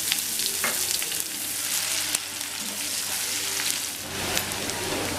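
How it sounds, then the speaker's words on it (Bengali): Finely chopped onion fries in oil for a Bengali bhola fish curry, giving a bright, even sizzle like light rain, close and continuous, with a few faint stirring taps. "পেঁয়াজটা আমার ভাজা হয়ে গেছে।"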